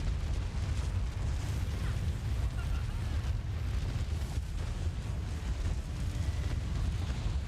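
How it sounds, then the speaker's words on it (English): Fireworks bursting in The Elder Scrolls Online, a dense, continuous wall of loud booming and crackling rumble that runs through the whole stretch without a break. "Fireworks."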